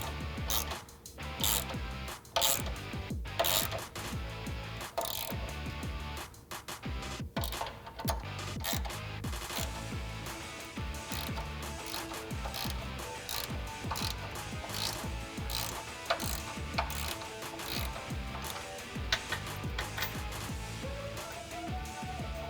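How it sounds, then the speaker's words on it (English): A hand ratchet with an 18mm socket tightens bolts on a Smittybilt XRC rear bumper for a Jeep Wrangler YJ/TJ, giving steady rapid clicking pawl sounds with brief pauses, close and continuous throughout. "you can use an 18mm socket and tighten those down"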